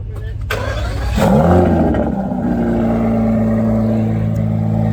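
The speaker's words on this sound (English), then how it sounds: "That's an Aston sound. That is a nice sound." An Aston car engine fires up and revs, a sharp crank and catch followed by a rising, roaring rev that settles into a steady, rumbling idle, close and loud with no voices.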